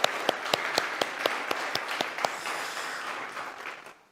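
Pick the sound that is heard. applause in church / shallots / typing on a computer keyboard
applause in church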